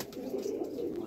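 Red-eyed Kamagar breeder pigeons coo in a steady low, throaty murmur, close by and continuous with no talk.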